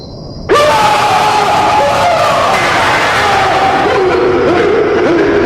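Terrifying ghost screams used as a story sound effect in a haunted castle tale, bursting in suddenly and then holding as a loud, sustained wail with shifting pitch.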